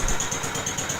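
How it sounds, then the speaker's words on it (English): A 10-horsepower Kohler engine on a mid-1960s Moto-Mower garden tractor runs steadily nearby, a continuous low chugging drone with a faint regular pulse and no voices. "It has a 10-horse Kohler engine,"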